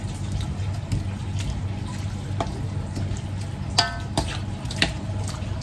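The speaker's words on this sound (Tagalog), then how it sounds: "Then, sote ko lang siya" Corned beef with bitter gourd and calamansi chili seasoning sizzles steadily while sautéing in a pan, with occasional sharp clinks of a utensil stirring against the pan.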